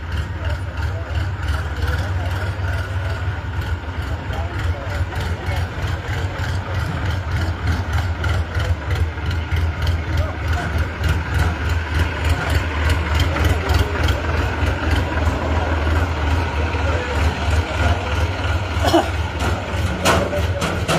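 A tractor engine chugs steadily nearby with a low, pulsing idle that grows slightly louder toward the end, while a voice carries faintly underneath.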